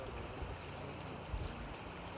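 Cold river water flows at a creek crossing near a bridge on the Gerard Trail in Oil Creek State Park, a soft, steady wash with a couple of brief splashy bumps as feet move in the water.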